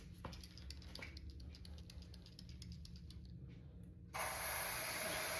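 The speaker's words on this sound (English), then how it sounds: "It says you spray it on for 20 seconds" Faint clicking and tinkering give way to a sudden, loud CRC Freeze-Off aerosol penetrating spray hissing steadily and continuously until the end, sprayed onto a seized head stud.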